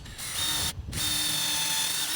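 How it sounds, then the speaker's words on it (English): A power drill bores holes into a wooden stair tread jig, a loud steady whirring drone that briefly cuts out and restarts, close up with no talk. "Now I'm drilling holes for the adjustment blades on the side."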